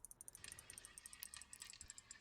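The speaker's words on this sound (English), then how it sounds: "the clicking sound is line being pulled" Rapid, fine clicking of a fishing reel as line is pulled out against the drag in Ultimate Fishing Simulator 2, an uneven run of quick ticks at low level.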